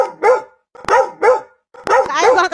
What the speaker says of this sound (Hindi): काहे भौंक रहा है तुम लोग?